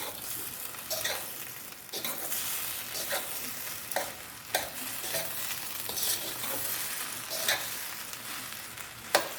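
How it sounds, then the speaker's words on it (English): Guyanese-style shrimp fried rice frying in a pan, a continuous crackling sizzle with regular scraping stirs of the spoon at roughly one-second intervals, close and steady. "you're gonna give it a good stir"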